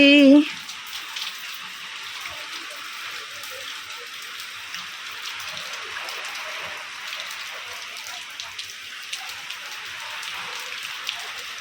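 Steady rain patters on a tin-roofed house during a day of continuous downpour, a dense even hiss with scattered drops throughout, following a brief voice at the very start.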